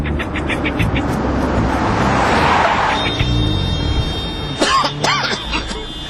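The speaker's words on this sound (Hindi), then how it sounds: "इतना ट्रैफिक" Heavy city road traffic rumbles steadily, with a passing vehicle's whoosh swelling midway and brief honks or voices near the end.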